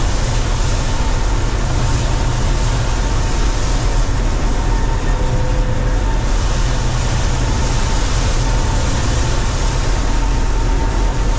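A 1977 Gleaner L2 combine's engine runs steadily while harvesting soybeans, a loud continuous low drone with mechanical rumble that holds even throughout, with no voices.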